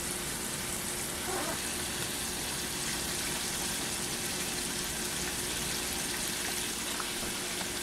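Pork chops seasoned with Kansas City sauce frying in a pan give off a steady, loud hiss and sizzle that holds evenly throughout with no talk over it.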